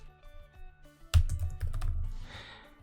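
Quick bursts of keystrokes on a computer keyboard, close and clear, a few light taps then a dense rapid flurry of clicks.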